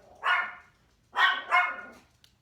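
An upset dog indoors barks three times, one sharp bark followed after a pause by a quick pair, loud and close with no voices.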